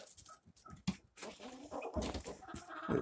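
Hens clucking and calling close by around a pipe drinker with drilled holes, short irregular bursts over a couple of seconds with some background noise.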